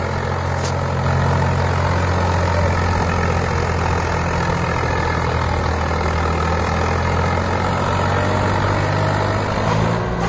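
A Swaraj 960 tractor engine runs in first gear during a pulling demo, a loud, steady low diesel drone with constant rumble throughout, no voices over it.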